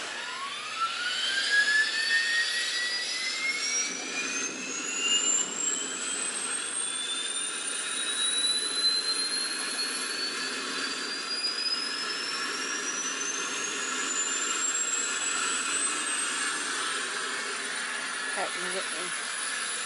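A loud, sustained Allison V-1710 aircraft engine roar with a steadily rising high whine, heard close up and continuous throughout with faint voices in the background.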